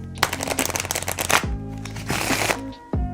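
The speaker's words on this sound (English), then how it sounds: "it is a genuine riffle shuffle" Cards riffle-shuffled up close: a fast fluttering run of clicks, a pause, then a second shorter riffle and a soft snap as the deck squares.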